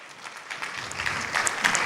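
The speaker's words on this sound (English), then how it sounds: "A big round of applause for her, please." Audience clapping for a guest being introduced at an evening event, a steady patter of hands that swells slightly toward the end, fairly close and without talk over it.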